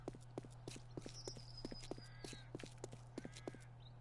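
Footsteps in the survival game 7 Days To Die tap in a steady, evenly spaced rhythm at moderate distance over a constant low hum, with faint tonal game sounds drifting through.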